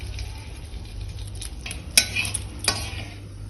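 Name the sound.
whole cardamom and dried chillies sizzling in butter and oil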